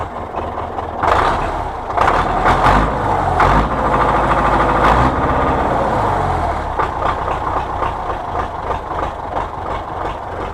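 An MTZ-82 tractor's diesel engine runs at low idle, a loud, steady rumble with some knocking and clattering bursts early on before settling.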